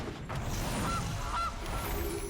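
Goose honks for the Gilded Goose card in the Magic Arena card game, a few short nasal honks sitting over a dense, constant background wash.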